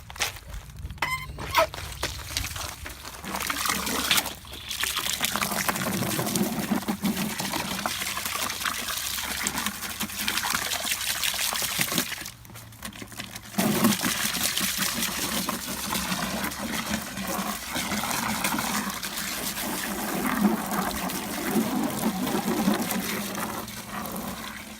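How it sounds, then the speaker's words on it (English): Water gushes and splashes steadily into a tub being filled to dye animal traps, a loud continuous rush that briefly cuts out twice, with occasional clunks and movement nearby. "And get the water going."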